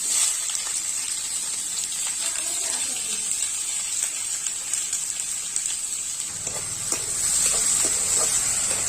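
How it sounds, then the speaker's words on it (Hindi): Chopped onion fries in a pan for mutton curry with a continuous bright sizzle and hiss, joined by occasional faint stirring scrapes, growing slightly fuller near the end. "इसे हल्का लाल होने तक तलना है"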